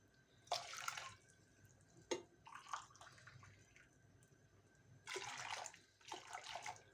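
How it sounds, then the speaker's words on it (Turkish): Several short bursts of hot water pouring and splashing into a pot, measured out by the glass, separated by pauses, faint and close. "Tenceremize şöyle bardağımızla 4 su bardağı sıcak su ilave ediyorum"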